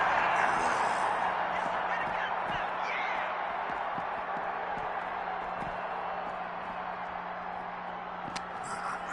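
A wrestling arena crowd in the WWE 2K26 video game makes a steady, wide roar of cheering and murmur, with scattered claps and thuds from the ring. A commentator talks over the crowd throughout.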